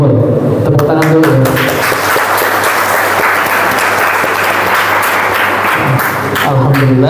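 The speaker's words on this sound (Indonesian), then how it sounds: "Tepuk tangan dulu." A crowd at an Indonesian writing Q&A event breaks into loud, sustained applause, many hands clapping steadily, with a voice briefly audible at the start and end.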